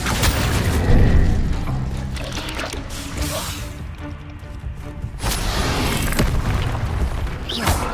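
Explosive spells in Hogwarts Legacy boom and rumble one after another, a loud burst near the start, then a dip and a second swell of crackling blasts with mechanical clatter, close and dense with no gaps.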